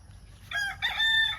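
A golden boy cross gold rooster crows twice in quick succession, a clear nearby cock-a-doodle-doo over a low background hum.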